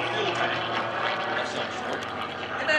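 An aerobatic propeller plane's engine drones steadily during a torque roll at an airshow, a continuous, fairly loud roar heard under a commentator's voice.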